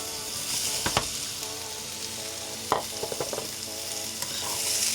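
Onions and celery sizzle and hiss in a hot pan for chow mein, with sharp scraping clacks of stirring breaking through the steady fry.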